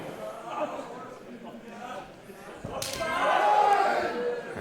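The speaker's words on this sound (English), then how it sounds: "Chop from Rage. Oskar happy to reciprocate." A single sharp wrestling chop slaps a bare chest in a professional wrestling ring, ringing out over a commentator's talk and the buzz of the crowd.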